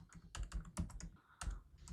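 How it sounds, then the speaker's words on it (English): Rapid, uneven keystrokes clatter on a computer keyboard while a Python package install command is typed, close and clear with short bursts and brief pauses. "I am terrible at typing."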